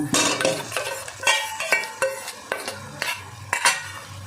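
Chilli paste, fried potato and onion being mixed into mutton in a metal pot, with a ladle scraping and clinking against the pan in a steady run of close, sharp strokes over a faint sizzle.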